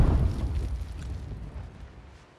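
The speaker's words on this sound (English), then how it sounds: "Watch out, he's doing a bomb." A bomb blast in The Last of Us multiplayer on The Dam map booms loudly at the start, then rumbles and decays over about two seconds with no talk.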